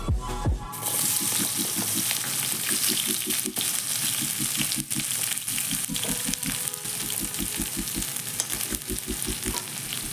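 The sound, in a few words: sliced onions frying in hot oil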